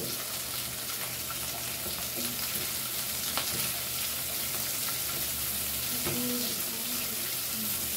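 Goan oyster chilli fry sizzling steadily in a pan, a constant loud hiss with occasional stirring clicks and scrapes throughout.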